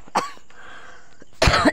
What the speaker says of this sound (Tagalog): Naubo-ubo ako kasi naulanan ako kanina eh.